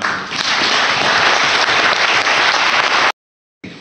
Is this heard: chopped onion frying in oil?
no